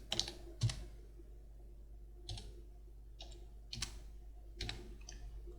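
Keys clatter on a computer keyboard in short bursts of quick clicks separated by pauses, close and fairly quiet with no talk.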